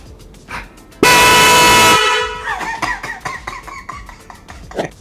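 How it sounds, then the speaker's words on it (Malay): A loud two-tone car horn blasts once for about a second, nearby, followed by quieter background clatter and faint voices. "Yang ini pula nama dia Twin Tone Horn atau juga dikenali sebagai Horn BMW."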